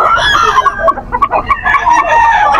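Chickens at a live poultry market in Bocaue, Bulacan cluck loudly and up close, with roosters crowing in bursts among the busy flock.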